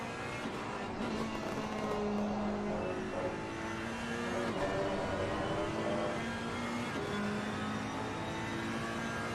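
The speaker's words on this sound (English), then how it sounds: "Can we hear anything from Faulkner's car" Onboard a GT3 race car in Assetto Corsa Competizione, the engine drones continuously at high revs with shifting pitch, steady and loud throughout, no talk.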